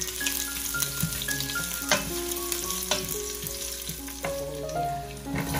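Garlic and ginger sizzle in hot oil in a pan for a fish-in-ginger soup, a steady close frying crackle with scraping stir strokes and light clinks of a utensil against the pan.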